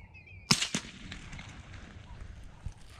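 A single sharp rifle shot rings out while hunting on a farm, a loud close crack followed by a quick echo, then quiet outdoor background with a faint later thump.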